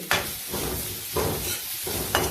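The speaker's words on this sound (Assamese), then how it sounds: "এইখিনি সুন্দৰকৈ মই এতিয়া ভাজি ল'ম।" Steady sizzling of bitter melon frying in a pan over a low flame, with a few brief stirring scrapes at regular intervals, close by and fairly loud.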